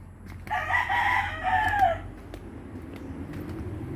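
A rooster crows once, loud and close, one long drawn-out call over a low background hum, followed by quiet with faint ticks.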